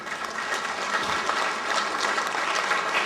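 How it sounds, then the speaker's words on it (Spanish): Sustained audience applause at a formal agreement-signing ceremony with the Oaxaca de Juárez municipality, a steady dense wash of many hands clapping at moderate level for about three seconds. "Un aplauso nuevamente."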